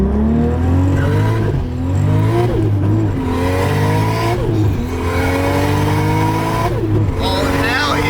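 A 2JZ-engined Nissan 300ZX pulls hard, its engine note climbing loudly through repeated rising sweeps with brief dips at gear changes and a whining drivetrain noise, close and dominant, with people talking over it inside the car.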